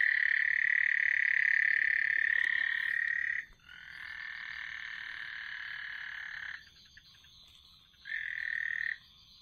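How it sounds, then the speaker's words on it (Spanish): A frog croaks in long, loud, close rasping trills broken by short pauses while a snake swallows it outdoors in a quiet setting. "Aquí frente de mí hay una culebra que está devorando una rana"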